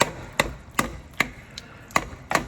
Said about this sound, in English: We're just chopping.